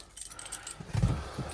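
Keys jangling as they are pulled out, a quick faint metallic clinking lasting about a second, close by.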